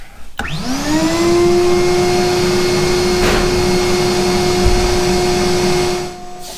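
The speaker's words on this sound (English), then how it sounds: "We're going to sandblast it, see what the cabinet looks like, how much dust there is" A 2-stage Ingersoll Rand 5 horsepower 80-gallon air compressor runs with a steady, loud hum and whine while sandblasting goes on in a blast cabinet, starting abruptly and holding constant for about six seconds before easing off.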